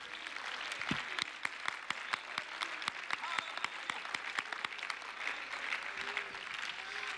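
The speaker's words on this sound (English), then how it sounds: "let's give God a hand clap of praise." A church congregation claps hands in praise during a Sunday service, with sharp rhythmic claps ringing out in a steady beat over a roomy background wash of crowd applause.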